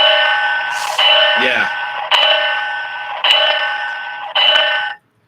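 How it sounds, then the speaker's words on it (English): Williams O27 toy train sounds: a steady electronic whistle tone blown in four long blasts with brief breaks, loud and close, while a voice speaks briefly partway through. "that's the Williams whistle and bell for you"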